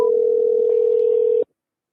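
A telephone line sends a loud, steady single-pitched tone while a call to a scammer connects. The tone holds for about a second and a half, then cuts off abruptly into silence.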